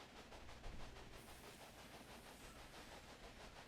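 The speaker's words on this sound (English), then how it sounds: "Our first train is off." A train running in the video game Railway Empire, a steady low rumble with hissing steam and faint rhythmic clatter of wheels, continuous and fairly quiet throughout with no voices.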